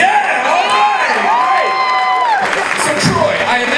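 Audience at a Last of Us convention panel at MomoCon Atlanta 2014 applauding, cheering and whooping loudly, a dense crowd roar with shouts and high voices layered over steady clapping throughout.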